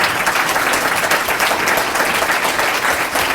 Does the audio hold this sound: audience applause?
yes